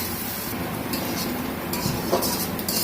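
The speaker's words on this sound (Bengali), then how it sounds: "আমি এখন এটাকে একটু ভেজে নিই" Ginger garlic paste frying in a pan for pilaf, a steady sizzle with scraping and stirring sounds from a utensil and occasional light clinks throughout.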